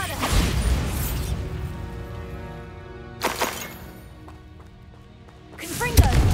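A Bombarda blasting spell goes off in Hogwarts Legacy, two or three booming bursts with rumbling crashes, mixed with game music and a voice casting the spell.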